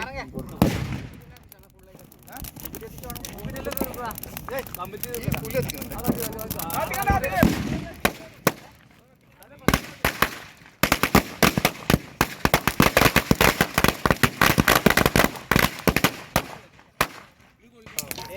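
Firecrackers crackle and pop in a rapid, dense burst of sharp bangs during Vishu celebrations, preceded by people talking nearby.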